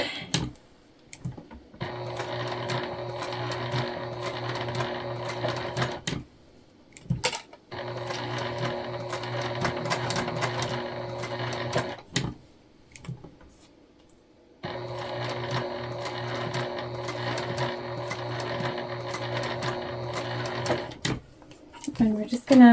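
A sewing machine stitches a raw-edge ghost pattern in three long, steady runs of motor whir, separated by pauses filled with quiet clicks and handling sounds.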